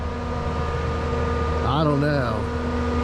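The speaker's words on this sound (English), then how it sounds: "one thing I hate when my equipment does this, when it revs up. I guess it's regenning or something." Caterpillar 299 skid steer idles steadily, then its engine briefly revs up and settles while regenerating, heard close under a short spoken remark.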